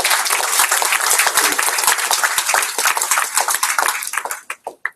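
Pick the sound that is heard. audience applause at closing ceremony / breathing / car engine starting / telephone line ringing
audience applause at closing ceremony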